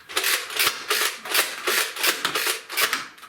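Nerf Scavenger toy blaster firing in single-shot mode, a close series of about eight quick plasticky clacks at a fairly regular rhythm, with no voices.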